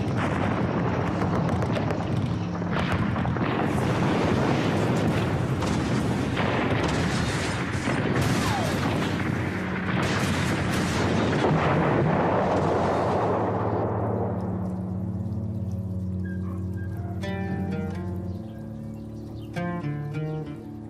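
Artillery bombardment of the 1926 war in Morocco, with hundreds of cannons and 250 aircraft, a dense, continuous roar of booms and blasts that thins out toward the end, leaving ringing tones, no voices.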